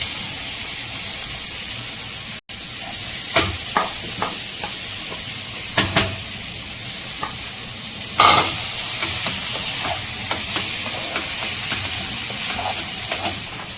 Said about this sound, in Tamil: இப்போ நம்ம பொரிச்சு வச்ச சிக்கனை வந்து சேர்த்துக்கலாம்.